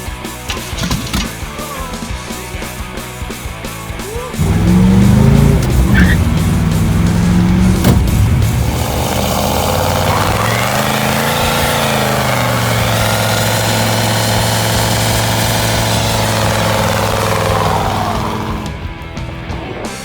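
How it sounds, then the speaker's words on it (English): A 79 Camaro with a 355 engine doing burnouts, starting with a low rumbling idle, then rising to a loud, sustained high-revving roar that holds for about thirteen seconds before dropping off. "we get it back on the road doing burnouts"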